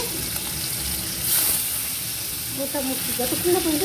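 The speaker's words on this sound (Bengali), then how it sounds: "তেল দিয়ে যে ম্যারিনেট করা চিকেনগুলো রেখেছিলাম সেইগুলো আমরা ভেজে নেব" Marinated chicken frying in hot oil in a wok, a loud, steady close-up sizzle and hiss with a brief surge, and a voice talking faintly over it.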